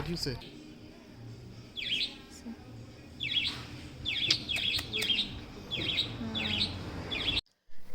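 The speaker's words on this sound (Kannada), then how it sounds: "ಈ ಪ್ರಕೃತಿ ಸದ್ದು, ಈ ಪಕ್ಷಿ ಸದ್ದು ಎಲ್ಲ ಕೆಳಗೆ ತುಂಬ ಚಂದವಾಗಿರುತ್ತೆ" Birds chirping outdoors in the green countryside near Sakleshpur, a series of bright, quick tweets repeating at irregular intervals over a soft low rumble of background noise.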